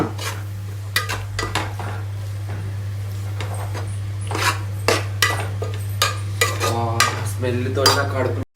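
A metal spoon repeatedly clinks and scrapes against the pot while spring onion egg curry is stirred with coriander powder, the irregular taps sitting over a constant low hum.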